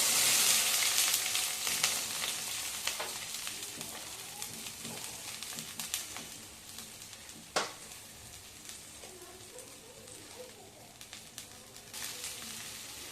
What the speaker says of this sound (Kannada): ಎಣ್ಣೆ ಕಾದಿದ ಎಣ್ಣೆಗೆ ಬೆಂಡೆಕಾಯಿನೆಲ್ಲ ಹಾಕೋಬೇಕು.